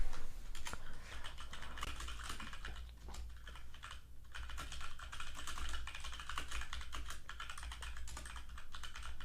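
Rapid, continuous clattering of fingers typing on a computer keyboard while writing code, close and steady with dense keystrokes and brief pauses.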